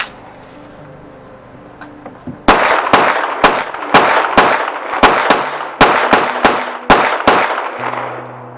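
A newly purchased Gersan GP35 9mm pistol fires at night outdoors in the woods, about a dozen loud, sharp shots in an uneven string, each a sudden crack with a short ringing decay.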